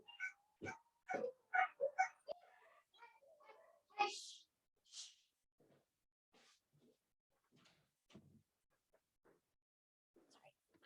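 Several dogs barking and yipping at a passing fire engine, a burst of loud barks at the start, then a sharp yelp, trailing off into scattered faint whimpers and quiet sounds.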